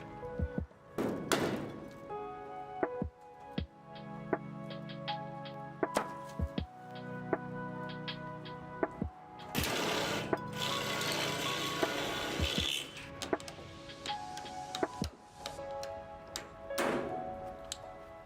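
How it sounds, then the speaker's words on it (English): Metal sheets are riveted onto a converted school bus, giving sharp isolated cracking pops at uneven intervals, with bursts of louder tool noise and resonant metallic ringing between them, fairly close. "Each metal sheet gets attached to the bus's original panels with rivets that sound like tiny gunshots"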